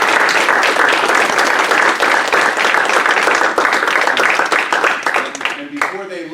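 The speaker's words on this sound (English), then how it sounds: "Can we give these two young fellas a round of applause?" A village board meeting audience gives loud, sustained applause for two young boys; the clapping thins toward the end as a voice begins speaking.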